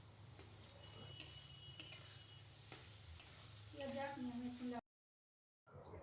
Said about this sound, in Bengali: চিংড়ি মাছগুলো আমি দিয়ে দিলাম, দিয়ে একটু নাড়াচাড়া করে নিচ্ছি।